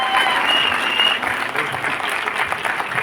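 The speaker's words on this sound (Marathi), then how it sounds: "सो खूप जोरदार टाळ्या होऊन जाऊ द्या" A large audience at an awards ceremony in Vashi bursts into loud, sustained applause, dense clapping filling the hall near and steady throughout.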